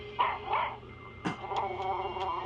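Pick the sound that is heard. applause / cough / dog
dog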